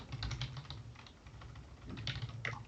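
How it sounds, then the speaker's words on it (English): A search is typed on a computer keyboard in quick, close clusters of soft keystrokes, with a brief lull partway through. "here we're going to type in something like corruption, procurement"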